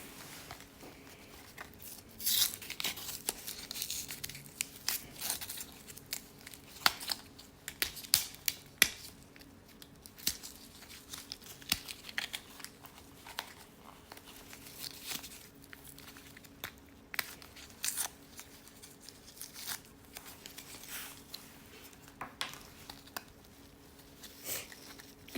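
Crinkling and tearing of plastic packaging around a new Sony CR1616 coin battery, with sharp clicks and crackles scattered through a faint, steady hum; close and quiet, no talking.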